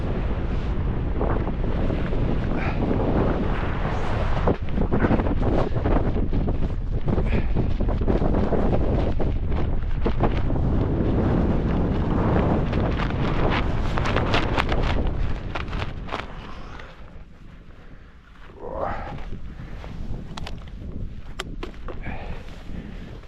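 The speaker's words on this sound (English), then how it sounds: "I think that wind's picking up, as I say." Strong gusts roar outside a tent pitched on a solo wild camp above England's deepest lake, loud, buffeting wind noise hitting the microphone almost continuously, easing briefly near the end before returning.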